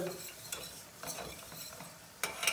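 Dried mint being stirred into a potato dish in a pan, a few soft scrapes of a spoon over a faint background sizzle, with short louder strokes at intervals.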